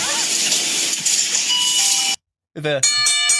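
A shop door entry chime rings a bright two-tone ding-dong after a brief silence, loud and clear, following a stretch of dense hissing noise.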